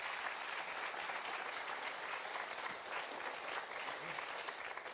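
Faint, steady applause from a studio audience on a French television show, a dense wash of clapping that holds at an even level for the whole clip.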